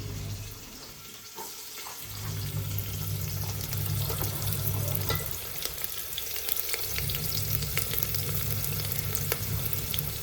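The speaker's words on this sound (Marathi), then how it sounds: "तर हा मोठा मोठा कांदा टाकते आधी" Large onions sizzle and fry in a pan, a steady close crackling hiss with soft stirring and a brief lull near the start, no voices over it.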